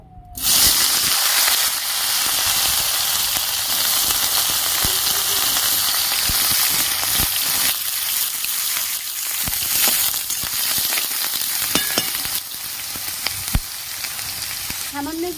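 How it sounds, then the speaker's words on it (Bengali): Sliced eggplant fries in hot oil in a wok on a lit stove, giving a loud, steady crackling sizzle throughout with scattered sharp pops and stirring clicks, and no talking. "কড়াইয়ের তেল গরম হয়ে গেছে আমি বেগুনগুলো ভেজে নেবো"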